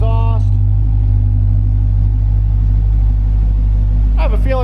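A 2005 Chevrolet Corvette with a 6-speed manual and full Magnaflow exhaust holds a loud, steady deep idle rumble throughout, with someone talking briefly at the start and end.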